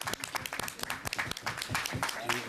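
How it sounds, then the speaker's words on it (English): Round of applause in a parliamentary committee meeting room, a fairly quiet room of people clapping in uneven, separate claps. "So a big round of applause for both Stephanie and Jubilee,"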